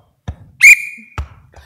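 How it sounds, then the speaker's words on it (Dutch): A short whistled signal used to call children in The Sound of Music stage musical: a loud, sustained whistle tone between two brief thumps, heard alone. "zo hoor je hoe je de kinderen moet fluiten"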